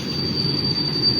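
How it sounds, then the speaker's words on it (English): Train rolling through Cart Junction, a busy rail spot in the city, with a steady rumble of railcars and a constant high wheel squeal running over it, loud and continuous throughout. "it's famous because there is a lot of trains there."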